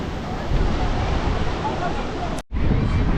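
Sea waves surge and wash onto Kanyakumari beach in a steady, loud roar with wind buffeting the microphone, briefly cutting out near the end.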